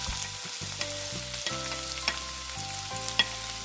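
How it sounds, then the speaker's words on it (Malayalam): Two small finely chopped onions fry in a pan for a green hariyali chicken gravy, making a steady close sizzle with soft stirring scrapes and clinks, while background music plays quietly. "ഇനി ഇതിലേക്ക് 2 ചെറിയ സവോള ചെറുതായി അരിഞ്ഞ് വെച്ചത് ഇട്ടെടുക്കാം."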